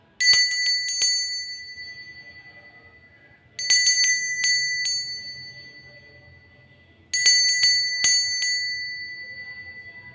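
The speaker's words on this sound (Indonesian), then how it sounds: "Kita akan langsung saja memulai dengan ditandai lonceng berbunyi." Three rings of a small bell marking the start of a Chinese-zodiac fortune card reading, each a bright metallic strike with a ringing tail fading over about three seconds, spaced roughly 3.5 seconds apart, clear and alone.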